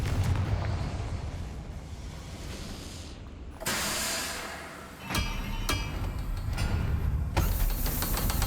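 A Confringo spell from a video game goes off in booming explosive blasts over a continuous rumbling background, with sharp crackling bursts at intervals and one deep whooshing detonation in the middle.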